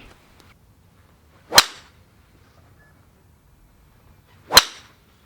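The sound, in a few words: golf driver striking ball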